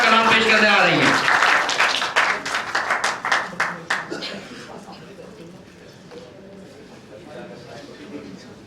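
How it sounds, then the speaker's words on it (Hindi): Applause from the audience at a mushaira, an Urdu poetry gathering, rising as a poet comes to the stage, rapid claps thinning out over several seconds under a host's voice. "आपकी भरपूर तालियों में मिस तबस्सुम वहीद अपना कलाम पेश करने आ रही हैं।"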